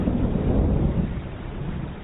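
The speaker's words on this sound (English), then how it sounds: "Within 2 hours of the meeting came the local community's worst nightmare, a Force 10 storm." A Force 10 storm roars with strong winds, a dense, continuous low rumble and rush of air buffeting throughout, loud and unbroken with no voices.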